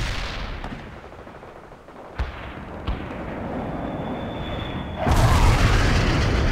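Laser-guided bomb strike in the World in Conflict battle game, a low rumbling barrage with a couple of sharp thuds, then a louder heavy boom swelling near the end.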